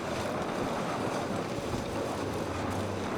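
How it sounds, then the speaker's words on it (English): A river flows with steady broadband rushing water, loud and continuous, mixed with wind buffeting the microphone outdoors. "here's the river"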